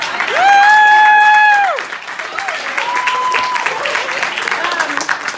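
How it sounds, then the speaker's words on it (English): Clapping from a comedy show audience runs as a thin, steady patter beneath a voice that calls out a long held tone near the start and keeps speaking over it. "just clap, it's fine"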